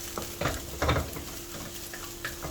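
Leftover egg fried rice with garlic gets stirred and fried in a pan, a soft continuous sizzle punctuated by several scraping, tossing bursts of the spatula, fairly quiet with no voices.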